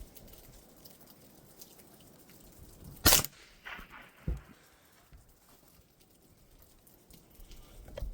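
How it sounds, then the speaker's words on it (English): Single sharp, fairly quiet report from a rifle firing CCI subsonic ammunition at a target 15 yards away outdoors, followed by a brief fainter knock, set against soft background ambience. "one shot at 15 yards with the CCI subsonics"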